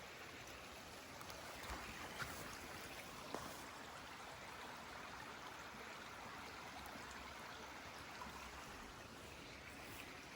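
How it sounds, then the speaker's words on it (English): A river runs steadily at a quiet spot in Scotland, a constant broadband rush of flowing water with a few faint knocks, continuous and fairly distant, no voices. "River running there."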